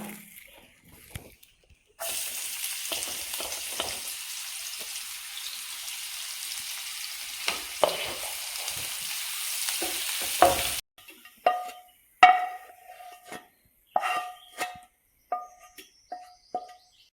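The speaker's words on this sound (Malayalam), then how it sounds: "ഇന്ന് കുറച്ച് ഉള്ളി എടുത്തിട്ട് നമുക്കൊന്ന് വറുത്ത് പോരാം." Sliced onions hit hot oil and fry with a loud, steady sizzle for several seconds before the sound cuts off. Sharp scraping and stirring clatter from a spoon in the pan follows, all in a home kitchen while prawn biryani is being made.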